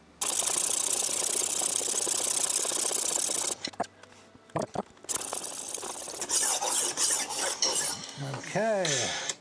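A knife drawn across the coarse side of a roller sharpener makes a loud, continuous close-up rasping grind for several seconds, then breaks into shorter scraping passes and clicks, ending with squeaky rolling sounds.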